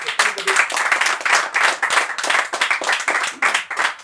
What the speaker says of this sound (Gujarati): એક વખત જોરદાર તાળીઓ આ ત્રણેય કલાકારો